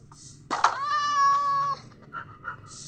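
A Minecraft cat lets out one long, loud drawn-out meow, close and clear, with quieter game sounds around it.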